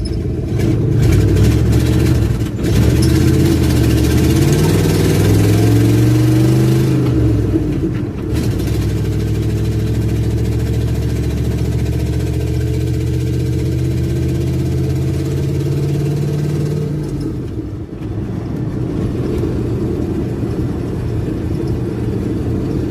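Car engine running loud and close, a steady idle with rising and falling revs and shifting engine tones, no talking, after work on new front bearings and brake calipers.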